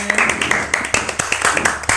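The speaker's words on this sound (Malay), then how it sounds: "Okay, tepuk tangan" A classroom of pupils clapping their hands during an Arabic lesson, a ragged series of sharp, close claps repeating roughly every quarter second for about two seconds, with faint voices underneath.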